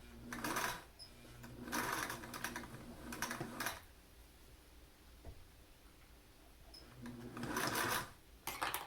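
A finicky home sewing machine stitches a fabric Covid-19 mask in quick bursts of rapid mechanical whirring. Four short stitching runs are separated by quiet pauses, with a small click in the middle.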